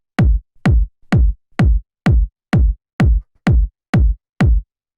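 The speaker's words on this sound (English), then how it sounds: "just like a nice, fat techno kick" A fat techno kick drum pounds ten times in a steady, evenly spaced four-on-the-floor pulse, each hit a punchy low thump with a sharp click on top, alone with clean silence between beats.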